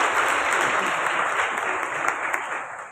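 A crowd at the opening ceremony of a Bible marathon claps enthusiastically, a loud, dense, continuous wash of applause that holds steady and eases slightly at the end.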